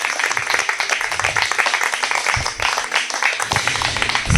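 A congregation at a Torah teaching on Parashat Bereshit claps together, a dense, lively burst of applause that stays strong throughout, with a few voices faintly mixed in.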